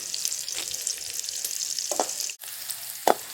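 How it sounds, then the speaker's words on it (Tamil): Onions fry in a pan with a loud, steady close-up sizzle, broken by a few stirring scrapes and a short gap before the hiss resumes. "வெங்காயம் வதங்கினது போதும்"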